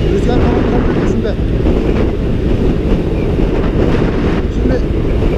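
Heavy wind roars against the microphone of a moving motorcycle, a loud, constant rumbling buffet with no breaks, drowning out almost everything else.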